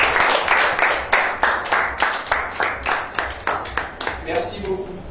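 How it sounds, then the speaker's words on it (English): An audience at a French-language school show claps in rhythmic unison, with sharp, evenly spaced beats at a brisk pace that fade slightly near the end as voices come in. "Applaudissez pour vous-même."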